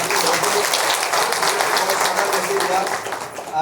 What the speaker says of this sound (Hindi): तो सर के लिए एक बार ताली चाहेंगे